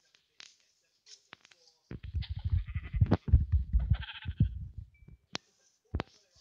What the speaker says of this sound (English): There's a little white sheep.